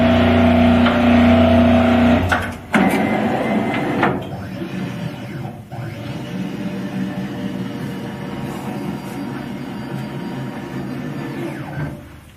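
Fully automatic electric paper cutter (JGPT Print-Tech 19EPSV) running its motorised back gauge back to the 12-inch cut position, a steady mechanical whir with clunks near the start, loud and close, with no talk.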